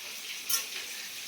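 Cauliflower sizzles in hot oil in a frying pan, a steady soft crackle with a brief louder spit partway through.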